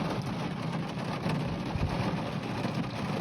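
Heavy rainfall pours down in a thunderstorm, a steady, dense hiss of drops drumming on surfaces with a low rumble beneath, fairly faint and unbroken, with no voices.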